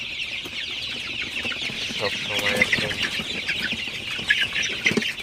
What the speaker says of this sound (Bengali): ওই পাশে একবারে কোনায় কিন্তু মুরগিগুলো একবারে জড়ো হয়ে গেছে।